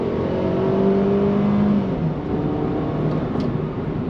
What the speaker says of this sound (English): Throttle all the way down.